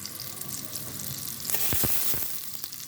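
Onions fry in hot oil for a bottle gourd curry with ilish fish, giving a steady close sizzle that swells midway with a few sharp crackles and utensil knocks.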